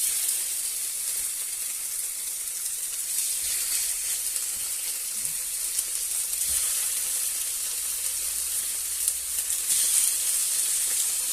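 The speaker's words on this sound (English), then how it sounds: "I'm going to add the pork loin fillets, and brown them off on both sides" Pork loin fillets browning in hot oil on a high hob setting, producing a continuous loud, bright sizzle with a few faint knocks in the pan and no voices.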